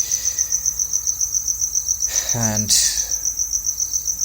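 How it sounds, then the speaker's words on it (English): Crickets chirp steadily outdoors in a fast, even pulse that runs through the whole stretch, while a voice briefly speaks over it. "hearing the crickets chirp or croak, whatever it is."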